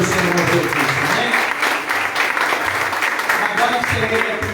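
A church congregation applauds steadily at the close of a Portuguese-language sermon, a dense wash of clapping with voices mixed in throughout.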